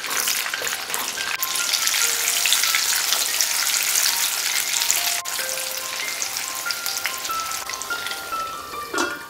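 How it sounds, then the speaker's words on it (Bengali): Potatoes fry in oil in a pan, the same oil used to fry eggs for an egg curry. The sizzle is loud, dense and continuous, with occasional light clicks throughout. "ওই তেলেই আলুগুলোও ভেজে নেব।"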